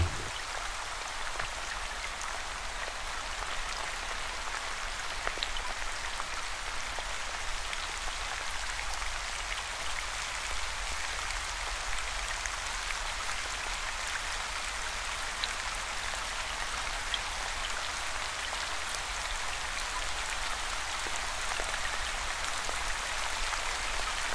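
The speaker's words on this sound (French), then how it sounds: "imaginer l'odeur de cette pluie qui tombe" Steady rain falling as an even, continuous hiss of drops, moderately quiet and unchanging throughout with no voices.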